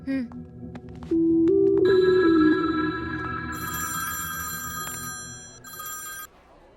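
A telephone rings in a film scene, with a steady electronic tone that rises into a sustained, bright trill and holds for several seconds before fading.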